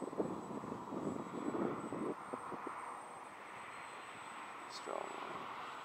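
A GWS Formosa RC plane flies on a windy day, its small electric motor droning faintly through gusty wind noise while people talk nearby.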